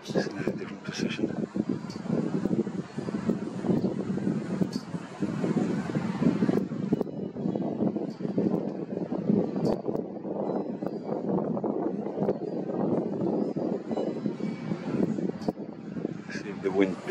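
Wind gusting outdoors on an August evening in Gibraltar by the Mediterranean, a steady roaring buffet against the microphone that rises and eases slightly, with a voice talking over it.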